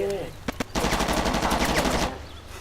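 Rapid automatic gunfire from the war game Shellshock 2: Blood Trails, a loud sustained machine-gun burst after two sharp single shots, close and dense with a faint voice beneath.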